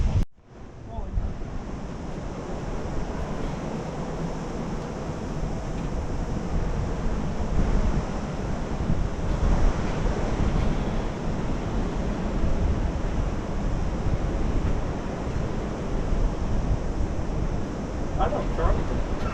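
Ocean surf at Piha Beach near Auckland, New Zealand, roars as a loud, continuous wash of breaking waves with heavy wind buffeting the microphone throughout.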